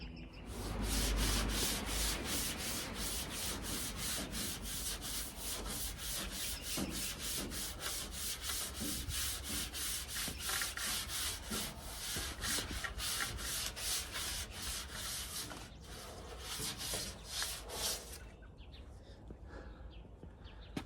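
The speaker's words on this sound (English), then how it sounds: "I'm going to go back to block sanding the body, 400." Rhythmic back-and-forth strokes of 400-grit block sanding on a VW Beetle body scrape steadily by hand at close range, a long even series that stops near the end, with faint birdsong in the background.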